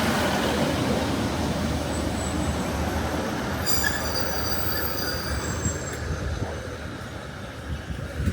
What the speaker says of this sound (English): we're going to be leaving Prestwick Town on the 1425 ScotRail service to Ayr